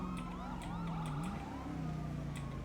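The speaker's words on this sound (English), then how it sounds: "Who's got their sirens on code 2?" Emergency vehicle sirens wail with overlapping rising and falling tones, several sirens sweeping at once amid steady traffic noise, moderately loud and continuous throughout.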